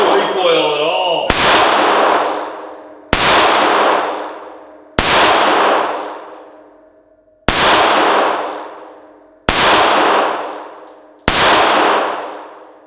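Six sharp, loud gunshots from a new Smith & Wesson M&P Shield 380 EZ pistol on a shooting range, each crack ringing out and fading before the next, spaced roughly one and a half to two seconds apart.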